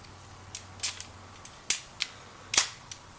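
A Caldwell XLA bipod's spring-loaded legs snap and click sharply, several separate crisp metallic clacks at irregular intervals, close and otherwise quiet.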